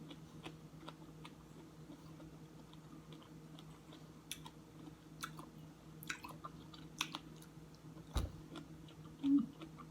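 Close, quiet chewing of sour mango, soft wet crunches and clicks in an irregular rhythm over a faint steady background hum, with one louder knock near the end.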